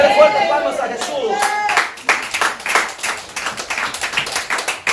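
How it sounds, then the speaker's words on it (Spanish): A church congregation claps hands together in a dense, steady burst of applause that starts after a moment of singing or music and carries on loudly to the end. "Dale fuerte palmas a Jesús."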